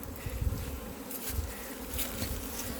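Honey bees buzz around an open hive, a close, dense droning swarm with individual bees flying past the microphone and swelling in and out.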